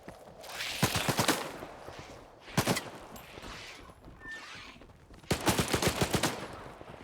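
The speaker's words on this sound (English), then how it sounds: "Who's shooting?" Bursts of video game gunfire, three clusters of rapid shots at a moderate distance, separated by quieter ambient stretches.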